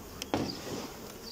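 Honey bees buzz close by around a hive with a swarm caught from a trap. There is a continuous low drone with a brief knock near the start.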